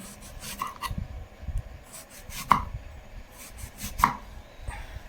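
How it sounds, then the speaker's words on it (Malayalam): A knife cuts through eggplant into fairly thick slices on a board, with a few sharp, distinct thuds spaced a second or so apart over soft rubbing and handling noise. "ഒരു 4 വഴുതനങ്ങ എടുത്തിട്ടുണ്ട്. അത് നമുക്ക് ഇതുപോലെ അരിഞ്ഞെടുക്കാം"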